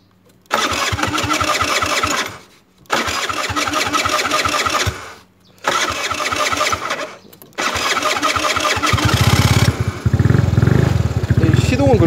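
A scooter with a faulty key box is cranked four times with brief pauses between attempts; on the last try the engine catches and settles into a loud, steady idle close by.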